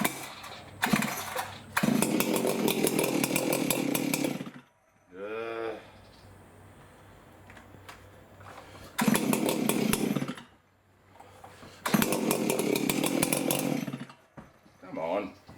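A G366 chainsaw, just refuelled after running nearly empty, roars loudly in several long revving bursts separated by quiet gaps, with people talking in between.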